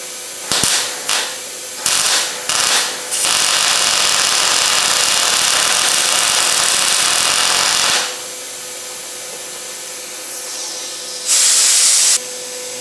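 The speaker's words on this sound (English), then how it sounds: "I'm going to start on the outside and drop the welder in the hole and run it around this time." A welder plug welds the crossrail of a 1972 Camaro, a steady loud hissing crackle sustained for several seconds after short bursts, close and alone with no talk.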